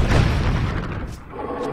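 An airstrike in the video game Broforce lands with one loud, deep boom that rumbles and slowly fades out over a couple of seconds.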